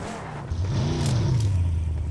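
Car engine in a video game revving up with a rising, steady whine that climbs in pitch after a brief quiet start, moderately loud and alone.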